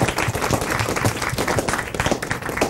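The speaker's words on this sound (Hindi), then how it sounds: "सबसे पहले तालियों के साथ स्वागत" An audience claps to welcome brave children at a ceremony honouring them, a close, lively burst of uneven hand claps that stays strong for the few seconds heard.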